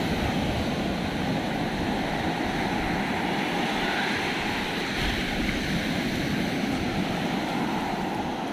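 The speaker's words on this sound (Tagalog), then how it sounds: "mataas yung ampas ng alon" Waves wash and churn steadily against the shore at Bagac, Bataan, a constant close rush of surf with no voices.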